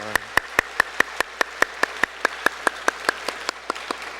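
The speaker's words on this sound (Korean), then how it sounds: "오늘 우리 공동체에 처음 나오신 분들을 향하여 우리 환영의 박수하면 좋겠습니다." Welcome applause from a church congregation for first-time visitors at a Sunday service, heard as a steady run of evenly spaced, fairly loud claps, about five per second, with no talking.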